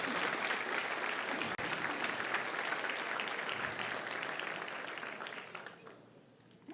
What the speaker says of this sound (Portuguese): aplauda forte o nome de Jesus